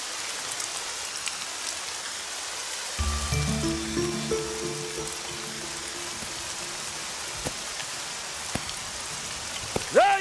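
Steady rain falls over farm fields, a soft continuous patter with a few sharper drip clicks; partway through, a low tonal hum enters and lingers under the wash of rain.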